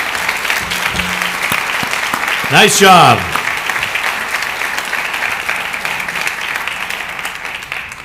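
Audience clapping for orchestra performers at a high school orchestra gala concert, sustained applause throughout with a brief spoken remark rising over it midway.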